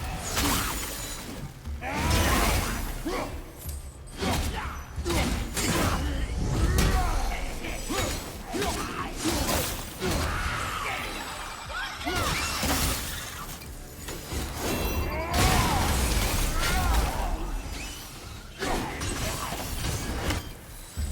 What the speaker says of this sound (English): I will never get tired of shattering things with this.